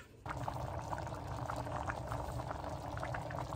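Rice with vegetables and cinnamon boils in a pot, a steady close bubbling and hiss with no break after a brief quieter start.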